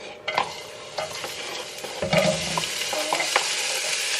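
Onions sizzle and crackle steadily in a hot pan, with occasional scrapes and clinks of a utensil stirring, close and moderately loud.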